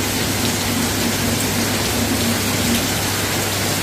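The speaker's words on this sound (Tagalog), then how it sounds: "Bigla pong umulan" Sudden rain pours down in Vigan, making a steady, dense hiss of drops hitting surfaces. It stays even and close for the whole stretch, with no talking.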